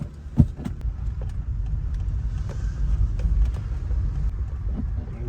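Inside a Volkswagen Jetta on the move, a low, steady engine rumble and road drone fills the cabin, with a brief knock near the start and no talk.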